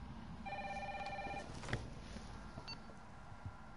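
A telephone in the video game Resident Evil 3 rings with a short electronic trill burst, followed by a faint distant tone and a thud, all quiet against low room noise.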